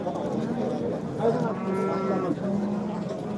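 Cattle and calves at the Andijon Izboskan livestock market let out a low, drawn-out moo over a background of crowd murmur and faint voices.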